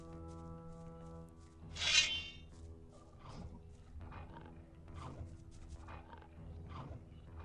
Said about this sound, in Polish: Silny wilk.